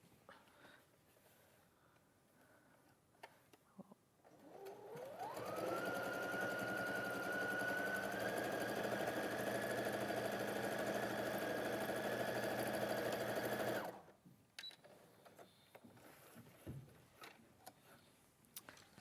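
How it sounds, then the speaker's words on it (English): A domestic sewing machine runs steadily for about nine seconds, understitching a pocket facing with contrasting white thread, a loud continuous whir with a rising whine as it starts up. Quiet handling noises come before and after. "We're going to understitch it"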